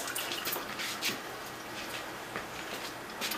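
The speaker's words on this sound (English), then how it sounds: "I'm going to rinse off my hands" A kitchen tap runs steadily while sticky date residue is rinsed off hands, giving a soft, even hiss of water with faint splashes and drips throughout.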